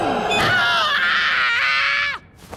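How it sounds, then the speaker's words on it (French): A cartoon character screams, loud and sustained, a high wavering cry holding for about two seconds before cutting off abruptly into quiet. "Je t'ai entendu crier."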